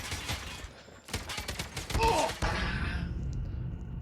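Video game gunfire from the Oden rifle: a rapid burst of sharp, loud shots in the first half, then a dense ringing tail with faint effects, no speech over it.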